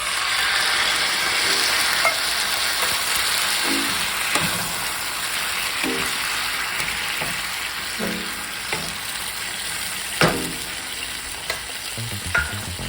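Fennel and canned fire-roasted tomatoes sizzle steadily in a pan, a continuous frying hiss broken by occasional stirring clatters and scrapes, close and alone.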